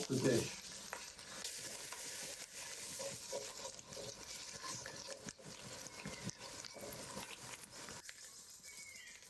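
Italian sausage browns and fries in a hot pan for orzo, a close, steady sizzle with scraping stirs and small pops throughout, no talking.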